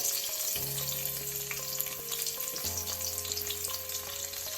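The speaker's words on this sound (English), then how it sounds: "Okay, so the pot is hot enough. Let's add the others. And now for our onions." Onions frying in a hot pot for Jamaican-style curried chicken, a dense continuous crackling sizzle with occasional light pops over a low background tone, close and steady, no talking.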